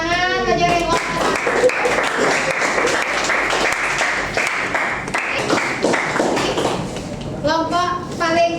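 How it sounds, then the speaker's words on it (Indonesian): Classroom of children applauding together, a dense burst of clapping with a teacher's voice and children's talk mixed in, fairly close and continuous for several seconds. "tepuk tangan"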